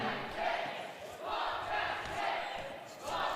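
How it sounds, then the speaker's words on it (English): Basketball crowd at an Iowa Central Tritons versus Northeast Hawks game roars steadily and loudly, with cheering swelling in waves as a player heads to the free-throw line. "You can hear the crowd going wild."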